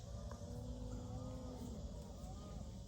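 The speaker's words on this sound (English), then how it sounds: "Can you guys hear the bull off in the distance who's hollering and yelling?" A bull hollers from a distant pasture holding about 200 cows, a faint low bellow sitting under steady outdoor background noise with no talk.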